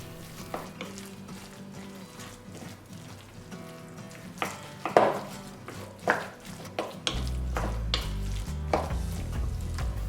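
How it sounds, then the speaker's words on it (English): A wooden spoon stirs a meatball mixture in a bowl, making soft irregular scrapes and knocks, with a steady low hum joining partway through. "Mix well with a wooden spoon until all the ingredients are well integrated."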